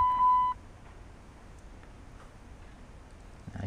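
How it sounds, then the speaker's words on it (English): A single short electronic beep sounds as an Evo OneClip 2 aftermarket car alarm module arms. It is close and clear, then fades to a quiet room hum, with a faint click at the end. "The alarm is armed."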